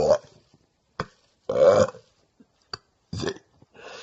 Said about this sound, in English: Next time come and burp with me.